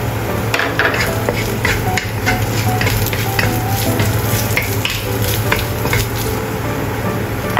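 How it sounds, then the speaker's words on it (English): Chilies and chopped ginger stir-fry in a hot pan, a loud continuous sizzle with a steady low hum and regular scraping clicks of stirring, close and without talk. "Stir-fry chopped ginger."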